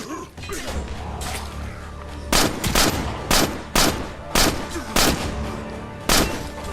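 Gunfire in the zombie survival video game State of Decay Lifeline, a series of loud, sharp single shots spaced about half a second to a second apart over a steady in-game background rumble.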